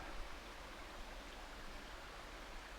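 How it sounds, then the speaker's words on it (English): A brook runs down a wooded slope near waterfalls, giving a steady, even broadband rush of flowing water that holds constant throughout with no talking. "So we have the brook running down."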